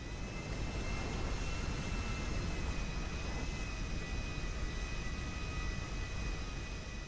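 A jet fighter taxiing on the ground in GTA V gives a steady, close roar of broadband engine noise with a thin high whine held over it, unbroken for the whole stretch.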